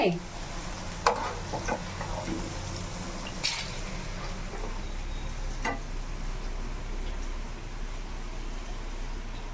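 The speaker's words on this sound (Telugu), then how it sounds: "మంచిగా ఇట్లా డీప్ ఫ్రై చేసుకుంటే" Sweetcorn pakodi deep frying in hot oil, a steady close sizzle with a few sharp clacks of a utensil turning the fritters against the pan.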